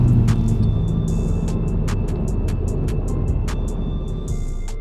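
A Ferrari Roma luxury car drives at the Goodwood motor circuit in Chichester, its engine a steady low rumble with tire and road noise, close and loud throughout.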